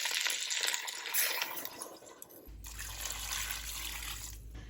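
Water pours from a tap into a pot holding broccoli stalks and potatoes, a close, rushing splash that briefly pauses, then resumes with a deeper, fuller gush as the pot fills.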